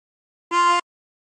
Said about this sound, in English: Breathe in through 12.